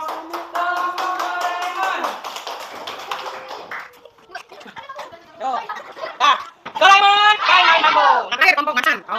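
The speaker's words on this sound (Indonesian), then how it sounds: "Beri tepuk tangan buat kelompok Doraemon" Classroom clapping for a student group mixes with voices and light laughter; scattered taps and claps come in bursts under and between children's chatter.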